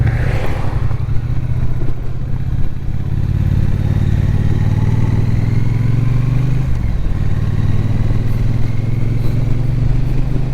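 A 2025 Triumph Bonneville T120 on the road, its engine a steady, loud close drone with a slight shift in pitch midway, wind noise rushing over it throughout.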